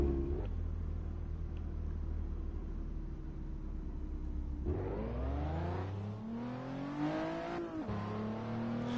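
A sporty high-end car's engine heard from inside the cockpit in the racing sim Assetto Corsa, a steady low drone that climbs in pitch as it revs up, dips on a shift, then rises again, loud and continuous.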